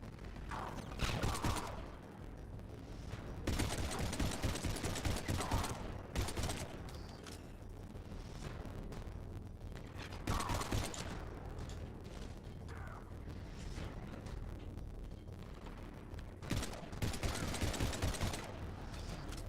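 Sustained volleys of game gunfire from a Mass Effect 3 firefight roll on in dense rapid bursts with brief lulls, a loud, continuous barrage with no one talking.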